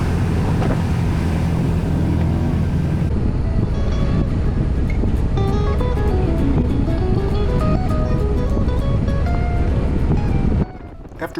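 Ferry engine rumble and rushing wind carry steadily across the bay to Whidbey Island, loud and continuous, with a deep droning hum that thins partway through and cuts off near the end.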